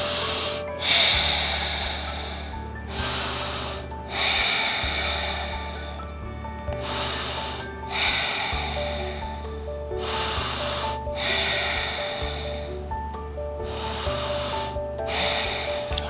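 Slow, deep yoga breathing during a flow: about eight long, airy inhales and exhales in a steady rhythm, each a close breathy rush separated by brief pauses, over a faint low background hum.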